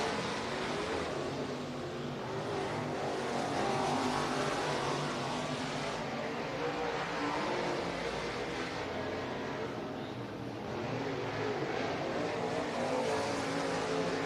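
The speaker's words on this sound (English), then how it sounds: "Green flag is out for this green-white checkered hot lap qualifying for our Sportsman late models." Sportsman late model race cars roar around a dirt track during hot lap qualifying, a continuous loud drone of engines at a distance, swelling and fading slightly as the pack circles.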